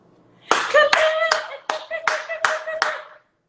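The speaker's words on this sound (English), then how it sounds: "And I'm up here clapping." A single person claps hands, seven sharp, close slaps in an irregular rhythm, with a voice talking between and over the claps.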